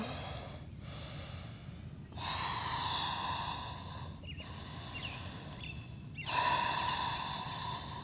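During a yoga session, slow deep breaths are drawn in and released through the mouth, each breath a soft, close, airy rush coming in long waves over a quiet background, with no talking.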